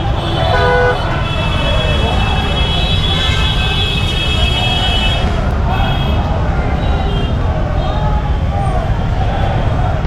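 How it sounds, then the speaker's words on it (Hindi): Car horns honk repeatedly in a traffic jam on the streets of Dehradun during a teachers' protest. The loud, overlapping toots ride over a dense roar of road traffic, and voices can be heard faintly beneath. "पूरा ट्रैफिक जाम है इस समय।"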